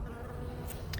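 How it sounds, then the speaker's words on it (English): Small bees buzz around a poppy flower in a garden, a steady close insect drone with a couple of brief brighter rises in pitch. "these little bees having a lot of fun on this poppy"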